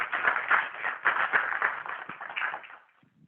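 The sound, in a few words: applause for the panelists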